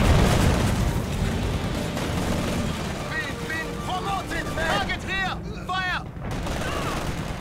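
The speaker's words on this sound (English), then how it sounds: "A grenade!" Battle noise from Company of Heroes 2 on a winter map, with a grenade blast amid rumbling gunfire and chirping bursts, under shouted voices and talk.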